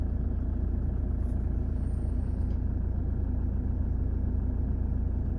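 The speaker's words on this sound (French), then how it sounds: "Alors, mettons le moteur en marche." A car engine runs steadily at idle right after starting, a continuous low rumble with no talk, recorded at a remote border crossing between Iraq and Iran.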